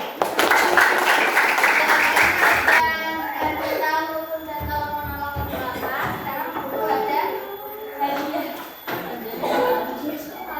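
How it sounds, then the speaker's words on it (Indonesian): A class of students claps in a classroom, a burst of dense clapping for a few seconds that gives way to a teacher speaking and children's voices. "Tepuk tangan dulu."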